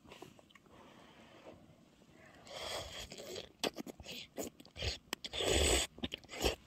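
Someone eats spicy mala tang at close range, with wet chewing, crunching bites and slurping that start faint and grow louder, while a little talk can be heard at times.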